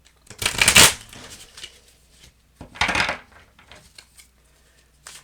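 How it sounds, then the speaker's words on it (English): Tarot cards being shuffled by hand, two loud riffling bursts a couple of seconds apart followed by softer card handling. "Let me shake these cards up a bit."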